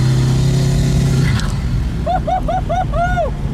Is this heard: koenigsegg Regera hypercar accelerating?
yes